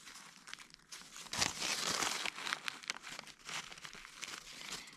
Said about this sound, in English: I'm going to dab it with a little bit of paper towel because it is quite oily